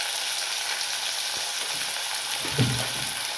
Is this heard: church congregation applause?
no